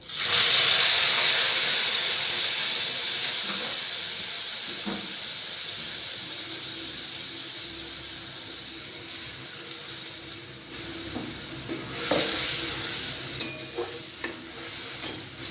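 Ground onion and garlic paste hits a hot pan and hisses loudly at first, the steamy sizzle slowly fading while a few stirring clinks and scrapes come through near the end.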